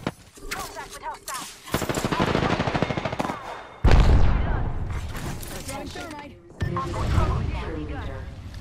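Rapid bursts of gunfire from the video game Apex Legends crackle loudly over several seconds, with heavy booming shots and game voice lines mixed in.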